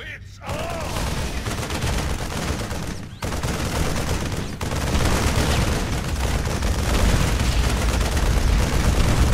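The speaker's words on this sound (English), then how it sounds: "These special artillery attacks can be used against tough targets like this enemy planetary fortress." Terran Thor artillery bombarding a planetary fortress in StarCraft: sustained rapid booming gunfire and blasts, loud and dense, with a short pause after three seconds before the barrage resumes and grows heavier.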